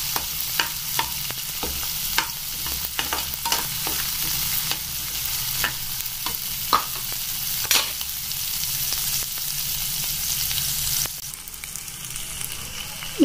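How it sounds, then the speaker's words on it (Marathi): Finely chopped onion and green chilli fry in a pan with a continuous loud sizzle. A utensil stirs and scrapes through them, giving repeated sharp clicks and knocks. "मित्रांनो, इथं आपला छान प्रकारे कांदा फ्राय होतोय बघा तुम्ही"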